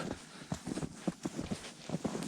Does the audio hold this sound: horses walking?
yes